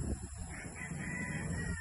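Roosters (young stags) crow faintly on a small farm, a quiet, somewhat distant call over a low steady background hum.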